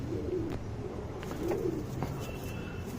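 A male Lal Kat Makhi pigeon coos softly in repeated low, throaty phrases, with faint background noise and occasional small clicks around it.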